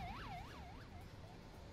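Ambulance siren in the emergency-response game Emergency 4, modded as Fairfax County, a faint wailing rise-and-fall that sweeps several times before fading, with light speech underneath.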